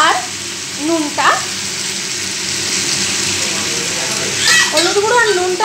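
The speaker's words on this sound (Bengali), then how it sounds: "পটলটা দিয়ে আমি আরও এক মিনিট মতো ভেজে নেব" Pointed gourd and potatoes frying in a pan, a steady, close sizzle running throughout, with someone speaking intermittently over it.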